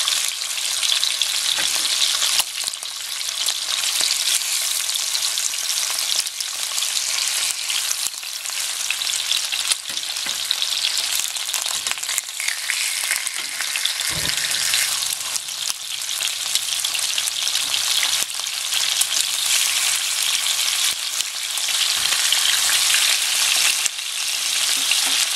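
Chicken wings for teriyaki fry in a pan, a dense, continuous hiss and sizzle of hot oil filling the whole stretch, with occasional small pops and stirring sounds, close and steady with no talking.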